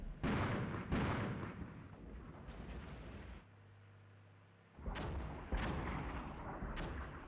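Artillery fire in the tank combat game Armored Brigade 2, with repeated loud booming blasts and rumbling impacts, a short lull midway, then several more close heavy bursts.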